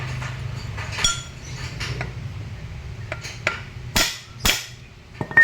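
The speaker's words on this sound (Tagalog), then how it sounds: "pukpok ulit." Metal clanks and hammer taps on a Ford Everest driveline part arrive in uneven bursts, with several sharp ringing strikes near the end, close up in a workshop with no speech.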